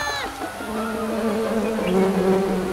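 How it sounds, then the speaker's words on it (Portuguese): Bees buzzing in the video game Gigantosaurus: The Game, a loud close droning hum that wavers in pitch and swells slightly as it continues, heard alone. "Ah, que zumbido é esse?"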